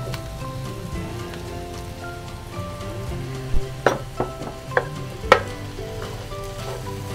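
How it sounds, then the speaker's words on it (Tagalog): Onions sizzle steadily in a hot pan for pancit, a continuous frying hiss with a few sharp pops and stirring clinks partway through. "Tsaka ako po ilalagay ang ating sibuyas."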